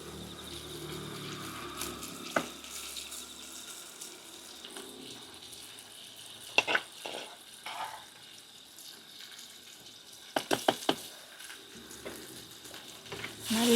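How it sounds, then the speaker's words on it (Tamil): Tomato, onion and green chili fry in oil in the same pan where prawns will go, giving a soft low sizzle with a few sharp clinks and scrapes of stirring near the end. "அப்படியே நல்லா தக்காளி பழம், வெங்காயம், பச்சை மிளகாய் எல்லாம் பொன்னிறமாக வதங்கணும்."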